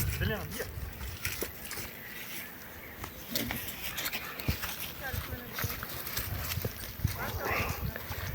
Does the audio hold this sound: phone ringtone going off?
no